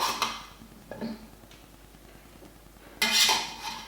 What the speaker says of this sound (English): with a slotted spoon, just add them to your oil